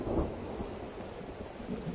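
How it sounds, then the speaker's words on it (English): Steady rain with low rumbling thunder in the magic-school building game Mind Over Magic, a continuous hiss of falling drops under a deep roll, even and fairly quiet throughout. "Oh, great. Our first rain."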